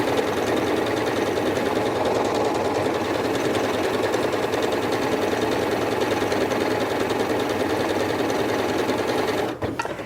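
A Janome MC8200 sewing machine stitches on its own at a steady fast pace, a close, loud, even mechanical whirr and rapid clatter that holds constant and cuts off just at the end, with no talk.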